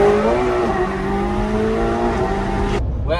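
A 2020 McLaren 720 supercar engine drones steadily with shifting harmonic tones, loud and close, before cutting off abruptly near the end and leaving a brief quieter tail.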